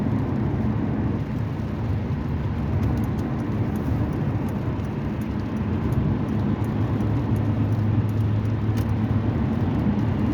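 A car cruising on Highway 93 North, heard as a steady low interior road rumble and engine drone with constant tire noise throughout, no speech.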